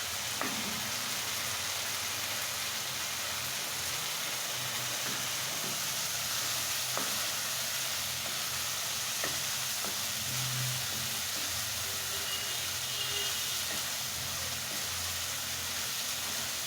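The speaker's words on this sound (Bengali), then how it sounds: "এই জন্য আমরা অবশ্যই মশলাটা খুব সুন্দর করে ভোনা ভোনা করে নেব।" Spice paste for a fish dopiaza fries in a pan, a constant soft sizzle with occasional light stirring taps and scrapes throughout.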